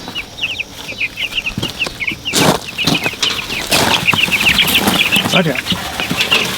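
Two-week-old chicks on fresh shavings give rapid high cheeps and clucks throughout, with wings flapping and rustling. A person briefly speaks over them.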